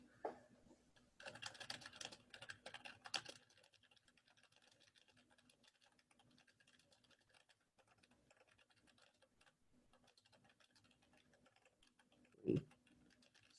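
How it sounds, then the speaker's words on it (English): Typing on a computer keyboard during a speed-typing race, quick bursts of faint clicking keystrokes in the first few seconds, then sparse scattered taps, with one louder knock near the end. "let's see how fast I type, because I type really slow"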